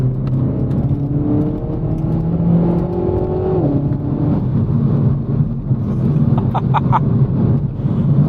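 Renault Megane RS 300 driven hard, its engine droning loudly from inside the cabin with rising and falling pitch as it accelerates and shifts, plus road roar and a few clicks near the end.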